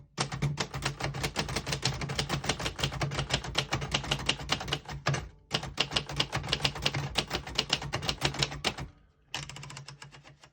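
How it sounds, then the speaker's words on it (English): Rapid clacking keystrokes from a 1965 Royal Safari manual portable typewriter, up close and busy, with two brief pauses breaking the steady typing rhythm. "Very nice typing machine."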